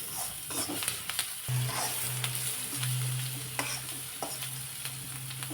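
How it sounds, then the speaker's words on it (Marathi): Onions with a little salt sauté in a pan, a soft continuous sizzle broken by scraping stirs and occasional clinks of the spoon, fairly quiet and close. "कांदा परतला जातो अगदी थोडासा हलकासा लालसर कलर येईपर्यंत परतून घ्यायचा आहे"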